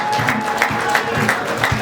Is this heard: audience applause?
yes